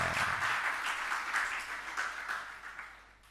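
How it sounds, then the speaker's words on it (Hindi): An audience at a Hindi religious sermon breaks into steady, fairly distant applause. The clapping stays continuous and fades slightly over a few seconds. "अब देखो, ताली तो बहुत जम के बजाई।"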